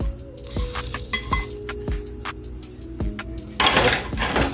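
Ground beef, sausage and vegetables for a triple meat chili sizzle steadily in a pan, with repeated utensil clinks and stirring scrapes, growing louder and busier near the end.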